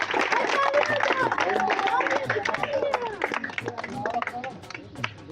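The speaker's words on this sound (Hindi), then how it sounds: "ओके हो गए। तालियां जी।" Applause and cheering at a wrestling akhara fill the space, with dense rapid clapping and a lively crowd hubbub continuing steadily throughout, voices mixed into the noise.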